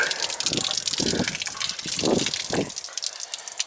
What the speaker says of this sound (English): I just open this up and it'll drain back.